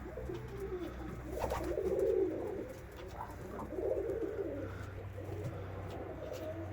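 Pigeons in a loft give soft, throaty cooing phrases in a couple of swelling bursts, close by over a low background hum, with no talk.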